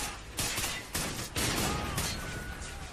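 Bursts of automatic gunfire in the Call of Duty: Ghosts Blitz mode on the Free Fall map, loud dense volleys in quick succession with faint game sounds underneath.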